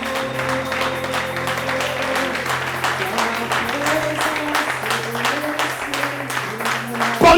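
A church congregation applauding and cheering during a sermon, with sustained, dense clapping throughout and raised voices mixed in, loud and close.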